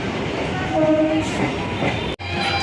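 Mazerhat–Ranaghat local passenger train on Kolkata's circular rail line, a steady close rumble of the carriage in motion throughout, with a brief dropout near the end.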